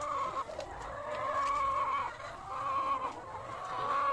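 Chickens cluck steadily in a coop where eggs are being gathered, a continuous chorus of overlapping clucks and calls at close range with no talking.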